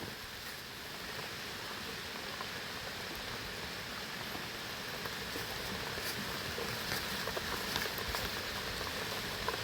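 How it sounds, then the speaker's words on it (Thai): Steady rain falls outdoors while termite mushrooms are being picked, a dense continuous patter on surfaces with faint occasional taps, unbroken for the whole stretch and with no talking. "ฝนก็ตกพอฝนโอ้ เก็บเห็ดปวก ตอนฝนตก"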